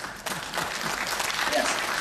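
Audience clapping fills a short stretch at an international conference on crime prevention and child protection, a dense, steady patter of many hands at moderate distance with no voices over it.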